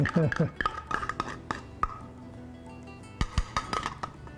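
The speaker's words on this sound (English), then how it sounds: "Always scrape out those bottoms." A spoon scraping tomato sauce from the bottom of a pan, a quick burst of clattering scrapes and metallic clinks followed by a few sparse knocks and taps nearby.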